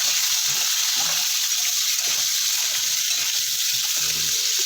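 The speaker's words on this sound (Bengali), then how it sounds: "এইভাবে একটু সবজিটাকে তেলের মধ্যে ভাজা ভাজা করে নেব" Potato, pumpkin and radish chunks fry in hot oil with spices, giving a steady, close sizzle that hisses continuously throughout with no voices.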